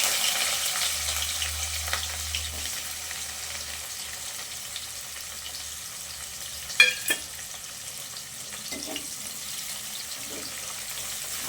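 Onions frying in oil in a pan, with cumin and mustard seeds added, as tomato rice is cooked, give a steady low sizzle throughout, with a few brief clatters of stirring partway through.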